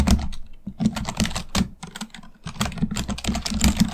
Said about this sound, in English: So I'm gonna write the password here.